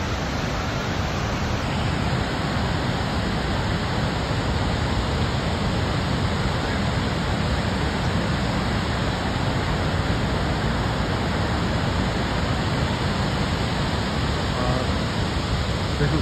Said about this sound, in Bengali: এই দেখুন ঝর্ণা